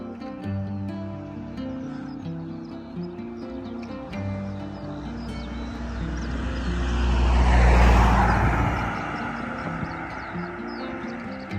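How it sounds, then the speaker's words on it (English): On a quiet Hertfordshire country road early on a Sunday morning, a car approaches and swells to a loud rushing pass near the middle before fading, with a softer engine hum before it. "2 cars came in opposite directions and some bikes all at the same time"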